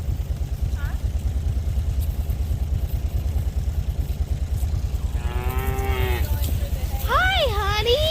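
Cattle on a ranch during farm chores with rotational grazing, a steady low rumble of movement near the microphone, then a couple of cows give drawn-out moos near the end.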